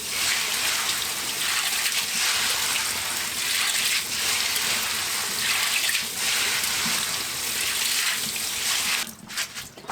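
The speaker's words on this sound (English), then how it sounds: "before I cut the water on" Tap water runs steadily into a bowl of 15-bean soup beans being rinsed, a loud continuous splashing gush for nearly the whole stretch, breaking up briefly near the end.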